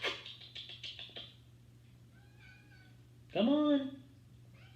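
A cat meows several times in quick succession, then a longer, louder meow follows after a pause, with a person speaking briefly in between.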